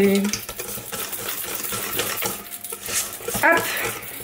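A spoon stirs sweet potato waffle batter seasoned with salt and pepper in a bowl, giving close, continuous scraping and light clinks against the dish, with a faint voice now and then.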